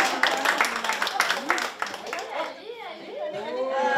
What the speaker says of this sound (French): On l'applaudit, mon ami.